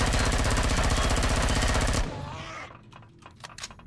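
Rapid automatic gunfire from a weapon in the video game Empyrion Galactic Survival, a loud continuous burst lasting about two seconds that cuts off into quieter game ambience with a few scattered clicks and thuds.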